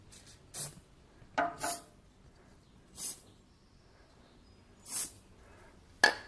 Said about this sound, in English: Little spritz of silicone, and let's see how we do.